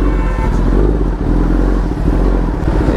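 An Italian superbike is ridden on the road, with its engine a loud, continuous close rumble mixed with wind roar.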